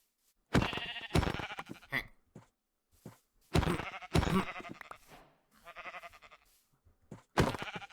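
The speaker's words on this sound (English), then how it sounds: "Let me kill all these sheep so I can get some foods." Sheep in the Minecraft game bleat repeatedly, with several loud close bleats in irregular bursts separated by short silences.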